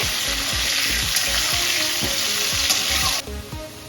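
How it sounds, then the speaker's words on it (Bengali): Salted, turmeric-seasoned potatoes fry loudly in hot oil in a pan, with a dense continuous sizzle and rhythmic spatula scrapes about twice a second. The frying cuts out abruptly near the end, leaving a quieter hiss. "এবার দিয়ে দেবো সামান্য নুন। ভালো করে নাড়িয়ে নেব।"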